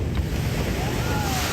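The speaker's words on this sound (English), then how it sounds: "Powerful winter storms in the Pacific Ocean whipped up the dangerous surf along the entire West Coast" Dangerous Pacific Ocean surf on the West Coast, whipped up by powerful winter storms, sends a continuous wash of crashing waves with heavy wind rushing across the microphone.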